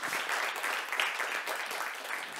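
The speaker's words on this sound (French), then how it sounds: "on applaudit les 3 finalistes en découvrabilité culturelle francophone" Audience at the MTL Tech Awards in Montreal applauds the three finalists in francophone cultural discoverability: dense, steady applause from a sizable crowd, sustained at an even level throughout.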